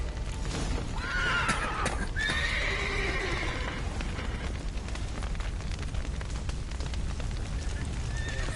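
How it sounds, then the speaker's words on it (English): Horses whinny loudly in The Witcher 3: Wild Hunt, with stepped neighing calls in the first few seconds over a constant roar of fire and crumbling debris from a collapsed roof, and hooves clopping. "The horses!"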